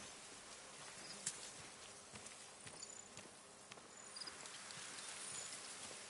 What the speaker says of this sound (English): we have singing crickets in this game